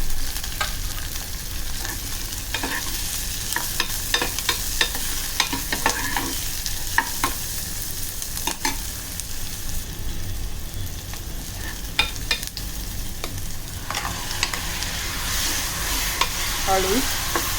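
A whole finely chopped onion sautés in a pan for Malvani-style taro leaf phadphade, giving a steady, close sizzle broken by repeated scraping and clicking stirs, with no voices.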